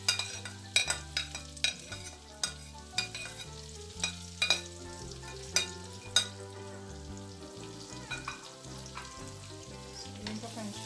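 Fried potatoes with ham, onion and pepper sizzle in a pan while a utensil stirs them, scraping and clinking against the metal at irregular intervals over continuous frying hiss.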